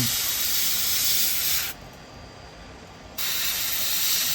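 Air compressor feeding an airbrush while weathering model railway track, a steady loud broadband hiss that drops away briefly mid-clip and then resumes at full strength.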